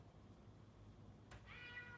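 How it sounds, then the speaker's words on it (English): A cat meowing in a quiet room, one faint drawn-out meow toward the end over low background hum, with a soft click just before it. "The cat's gonna start meowing at us."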